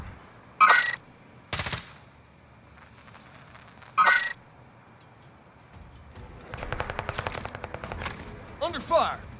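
Video game gunfire rings out as a few isolated sharp shots early on, then a rapid automatic burst later, over quiet background ambience with some game sounds mixed in.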